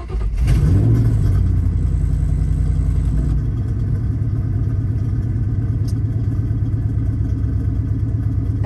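A Ford Mustang GT engine fitted with a Bama X4/SF4 tuner cranks and fires up with a loud burst, then settles into a steady, rumbling idle close to the microphone, with no talking.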